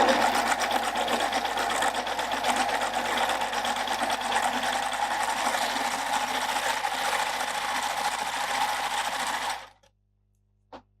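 A Baby Lock Euphoria coverstitch machine runs steadily as it sews lightweight jersey with a narrow cover stitch. The loud, continuous mechanical whir goes on alone for about nine and a half seconds, then stops abruptly, leaving near silence.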